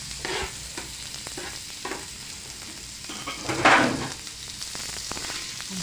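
Finely chopped onion sizzles on a griddle with intermittent stirring scrapes, a louder burst of frying around the middle, no voices.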